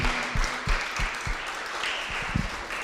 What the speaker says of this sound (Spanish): ¿Y por qué no le damos un aplauso a Dios por esa cruz?